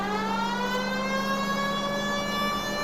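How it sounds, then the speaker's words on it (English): A police car siren in the L.A. Noire video game wails in a steady sustained tone, loud and clear over a faint engine rumble, with no talk. "Hopefully with the police siren on, people just know to get out of the fucking way."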